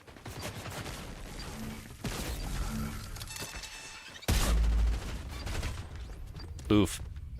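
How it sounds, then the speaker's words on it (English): Sniper shots ring out in a Fortnite match: a couple of sharp, loud cracks stand out amid game effects, with players' voices talking in between. "Those sound like sniper shots."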